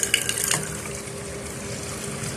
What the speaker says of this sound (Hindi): ये भी पानी भरता है इसके अंदर।